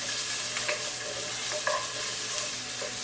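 Tomato and garlic sizzle steadily in a pan for Indonesian balado, a continuous frying crackle with a few soft scrapes of stirring, close and alone with no voices.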